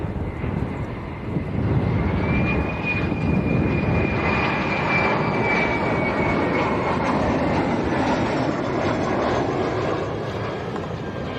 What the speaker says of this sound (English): here we go, Red Passion livery, Condor A321